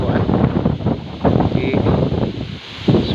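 Strong wind blows across a farm and bends bamboo, a loud gusting roar with rustling that rises and falls, mixed with microphone buffeting.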